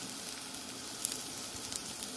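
Onions sizzle steadily in a hot pan over a high flame, a soft, even frying hiss with a few faint pops and no voices.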